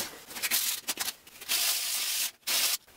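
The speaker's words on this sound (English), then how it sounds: "Now I'm gonna do some quick and light sanding." Quick, light strokes of sandpaper rubbing back and forth, several short passes followed by longer sweeps, close up and fairly quiet.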